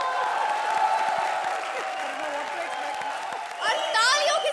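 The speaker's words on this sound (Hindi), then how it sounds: "a very big round of applause" A TV comedy show studio crowd applauds steadily, a dense wash of clapping that holds throughout, with cheering and voices rising near the end.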